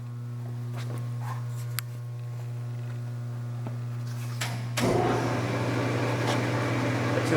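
A Leblond Makino 19 x 54 inch lathe with a 3-inch spindle hole runs in low speed at 40 RPM, giving a steady electrical hum with a few light clicks. Partway through, a broader mechanical whir comes in and continues.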